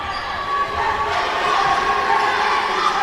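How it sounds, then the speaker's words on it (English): Crowd at a women's division basketball league final, a steady roar of cheering and shouting from the stands that swells slightly toward the end. "The noise of the crowd notwithstanding for those 2 shots."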